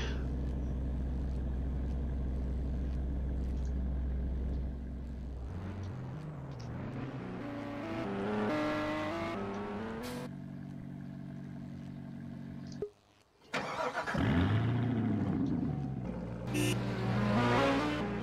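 Car engine in the Roblox driving game Driving Empire, droning steadily and shifting pitch as it revs and accelerates, with a brief drop-out near the end before the engine roars back, loud and close with no talk.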